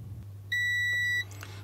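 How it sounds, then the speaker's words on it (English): A multimeter's continuity tester beeps once on a printer mainboard fuse, a single clear electronic tone lasting about two thirds of a second over a low steady hum, close and alone. "So if circuit is closed, you're going to hear a beep."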